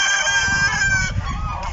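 Geese honking loudly and continuously as a flock is let out toward a pond, a close, overlapping clamour of harsh calls with some clucking-like chatter underneath.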